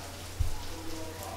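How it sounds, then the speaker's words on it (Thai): Rain falls in a steady, soft patter, fairly faint and continuous, with a brief low thump near the start. "ฝนเทลงมานะคะหน้าฝนฝนก็ต้องตกเป็นธรรมดานะคะ"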